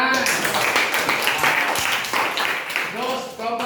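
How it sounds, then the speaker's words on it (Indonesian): A group in a practical classroom claps, a short burst of fairly close applause that fades out with voices starting to talk over its end. "Tepuk tangan."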